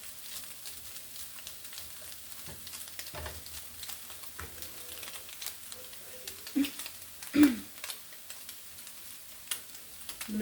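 Potatoes crisping in a pan give a quiet, steady sizzle with occasional stirring scrapes and a couple of sharper clatters, close but low in level.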